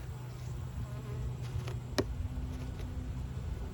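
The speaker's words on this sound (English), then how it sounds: "Look at all these bees we still have on the inner cover." Honey bees buzz steadily on a hive's inner cover, a close, low drone with one sharp knock partway through.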